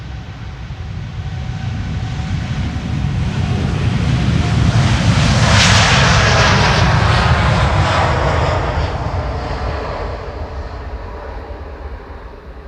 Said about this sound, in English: We also have Tui arriving here on the scene. That's the Dreamliner.